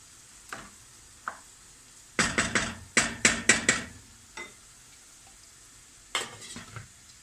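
Onions sautéing in a pot for pilaf, heard as several short bursts of stirring and scraping with clusters of rapid strokes over a faint sizzle, close by and with no talk.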